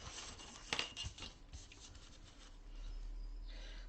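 A blade trims the cork backing off a ruler, giving a few quiet, close scraping cuts and rubs in the first seconds, followed by a soft low hiss.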